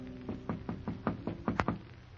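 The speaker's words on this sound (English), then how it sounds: "I heard someone at the door" Knocking at a door, about seven firm raps in an even rhythm, fairly close, with no talking.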